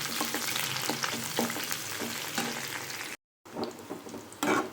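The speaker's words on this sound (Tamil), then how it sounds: "கட் பண்ணி வச்சுருக்க வெங்காயம் சேர்த்துக்கிறேன்." Chopped onions sizzling and frying in a pan for a Tamil mushroom fry, with a steady hiss and occasional stirring scrapes, a brief drop to silence, then more sizzling.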